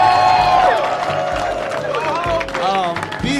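An audience at a stand-up comedy show cheers and claps in a continuous, loud wash of crowd noise, with a voice talking over the top throughout.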